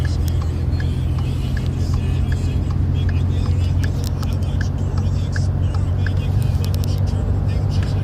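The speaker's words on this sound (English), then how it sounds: "So merged onto the interstate in 5th gear at about 65 miles an hour." A Ford EcoBoost pickup towing 6,000 lbs merges onto the interstate in fifth gear at about 65 mph. A steady, loud cabin drone of engine and rough road noise runs throughout, with a person talking over it.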